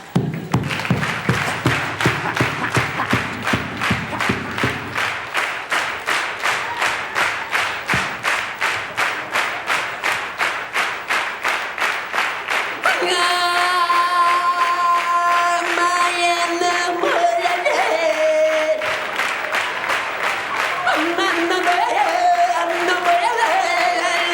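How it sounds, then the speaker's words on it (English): A stand-up comedy audience claps along in a steady rhythmic beat for about thirteen seconds, then the clapping gives way to music with sustained tones and continued crowd noise. "Come on, clap your hands, I'll do one with a song."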